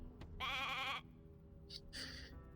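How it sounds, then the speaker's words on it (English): A sheep in Divinity: Original Sin 2 gives a short, clear bleat, followed by a couple of faint higher chirps over a quiet background hum. "Hey, a sheep!"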